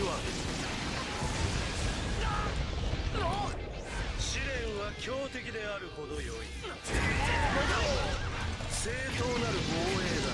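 A horse whinnies repeatedly during a JoJo's Bizarre Adventure All-Star Battle fight, set among busy game effects, crashes and hoof clatter, with a voice talking over the action at steady loudness.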